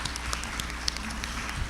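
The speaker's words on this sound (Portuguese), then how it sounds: "Palmas para Maria." Audience at a debate event applauding for Maria, a steady patter of clapping hands, moderately loud and continuous for a short stretch.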